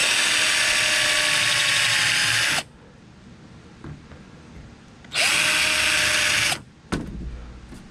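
A power drill whines loudly and steadily for a couple of seconds, stops, then runs again in a second burst followed by a brief clunk, boring a shallow recess without drilling through.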